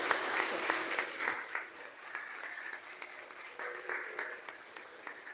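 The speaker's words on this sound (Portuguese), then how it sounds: "Dê um aplauso ao Senhor, Ele merece." A church congregation applauds the Lord with a lively, uneven burst of clapping, sharp individual claps standing out over the crowd, swelling and dipping across a few seconds.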